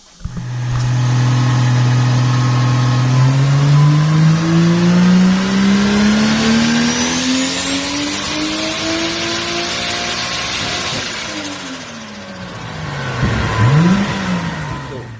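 A Lexus IS300 engine revs hard on a dyno, pitch climbing steadily over several seconds, holding near the top, then dropping away before a short blip; loud, close and continuous, with no talking.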